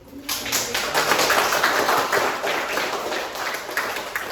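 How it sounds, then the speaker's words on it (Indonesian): A group in a classroom claps hands together, a steady run of quick, fairly soft claps that lasts several seconds with little talk. "Tepuk tangan dulu."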